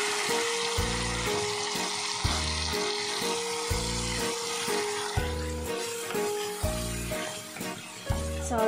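Jackfruit seed cooking water is poured into a hot pan for a Kerala mango thoran, giving a loud, continuous hiss and sizzle over a steady, rhythmic musical pulse.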